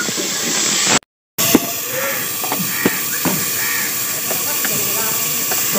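Onions already browned in a pan, with tomatoes, green chilies and garlic paste added, sizzle and hiss steadily and loudly in close, continuous frying, broken by a brief silent gap and a few clinks.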